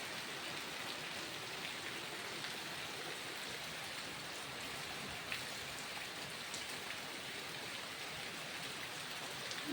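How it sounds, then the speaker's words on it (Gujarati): Heavy rain pours down steadily, a dense continuous hiss of drops drumming on surfaces, close and loud throughout with no voices. "પવન ઓછો પડ્યો ને વરસાદ જોરદાર ચાલુ થઈ ગયો."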